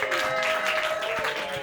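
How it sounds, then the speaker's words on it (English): An audience at a comedy roast battle claps for a roast comic, a fairly soft, brief burst of applause with a steady tone humming underneath. "Start clapping for Dan Wickes."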